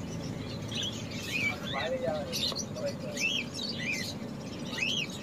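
Caged owl finches, a star finch and diamond sparrows chirping, repeated short high tweets scattered through the clip under someone speaking.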